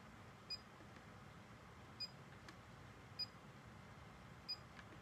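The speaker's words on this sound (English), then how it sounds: "You're gonna hear it click, you're gonna hear it beep." Four short, high electronic beeps from a scent diffuser, spaced about a second apart, faint over a quiet hiss of room noise.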